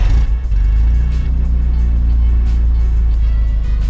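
A Volkswagen Golf R-style Audi S3 engine with a new IE exhaust idles with a loud, steady low rumble, continuous throughout with a slight dip at the start.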